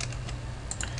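Quick, close keystrokes sound on a computer keyboard while entering an Excel formula, a short burst of several clicky taps with no talk.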